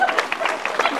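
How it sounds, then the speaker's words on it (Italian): Cabaret live-show audience breaks into a short burst of encouraging applause, dense and fairly close, with scattered claps and crowd noise filling the whole moment. "applauso di incoraggiamento"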